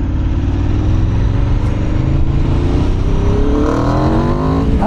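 A brand-new 2024 Aprilia RSV4 1100 sportbike with a slip-on exhaust revs loud and close, its pitch climbing steadily through a rising throttle sweep and holding a continuous, aggressive roar.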